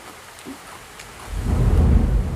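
A deep roll of thunder swells up after a quiet moment and rumbles on loudly, with a hint of rain in the background.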